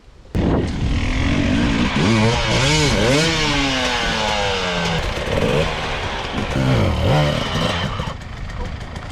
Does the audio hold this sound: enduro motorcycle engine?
yes